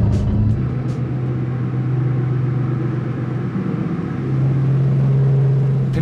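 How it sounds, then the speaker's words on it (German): A Bugatti Chiron Sport with a 1,504 hp engine rumbles close by as it pulls away, a loud steady low drone that rises slightly toward the end, with no voices over it. "Der Chiron Sport ist verkauft und wir müssen jetzt den Tank für den Transport leer fahren."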